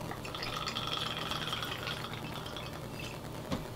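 An ounce of Empress gin, the kind colored with butterfly pea blossom, pours steadily into a glass for a Black Mamba cocktail, a faint continuous trickle with soft rattling, no talking.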